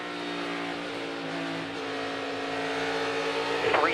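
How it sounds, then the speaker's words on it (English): A NASCAR Cup Series race car at Phoenix Raceway roars past, its engine note changing as it shifts gears within a steady, dense wall of engine noise that rises toward the end. "So that was the first car I actually heard shifting in 1 and 2 as well"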